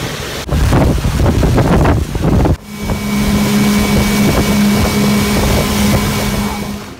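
A motorboat engine drones steadily nearby on a lake, its low hum mixed with rushing wind and water noise throughout.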